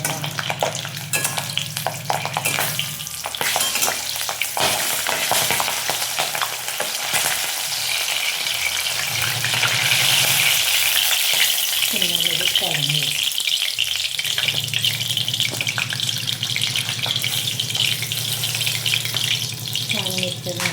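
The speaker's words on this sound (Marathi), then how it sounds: "ह्या मिरच्या आपल्याला याच्यात टाकून घ्यायच्या" Green chillies frying in hot oil for a festival snack, a steady loud sizzle with occasional stirring clatter running throughout, no talking.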